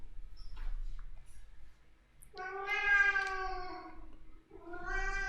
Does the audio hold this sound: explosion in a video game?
no